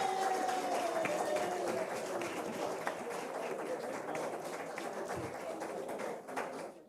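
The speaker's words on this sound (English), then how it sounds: "Let's give all of them a round of applause." An audience applauds at a live inter-ministerial quiz contest, a sustained wash of clapping that is moderately distant and even, with some voices mixed in.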